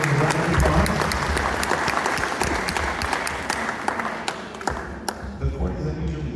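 A room full of people applauding, loud continuous clapping with a few sharper claps standing out, lasting the whole time.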